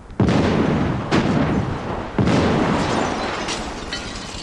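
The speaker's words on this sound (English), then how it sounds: "The explosion will be on the screen for just 10 seconds." Special-effects explosions for a film scene at a remote gas station: three heavy blasts about a second apart, each a sudden loud boom followed by a roaring, rumbling decay, with no talk.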